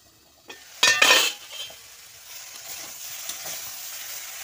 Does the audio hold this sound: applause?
no